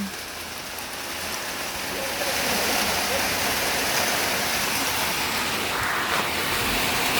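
Steady, dense rain pouring down, a continuous hiss that grows slightly louder after the first couple of seconds.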